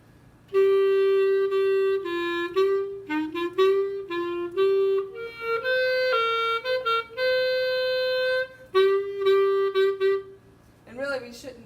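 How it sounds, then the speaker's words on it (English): A concert band plays the melody of a piece on flutes, oboes, clarinets, alto saxophones and trumpets: a sustained, close, fairly loud line of held and moving notes, with a brief human voice at the end. "So the melody, the flutes, oboes, clarinets, altos, and trumpets, this is starting at 25."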